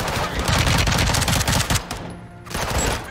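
Rapid automatic gunfire in Call of Duty: Modern Warfare II, loud dense bursts of shots that break off briefly before firing resumes, with no talking over it.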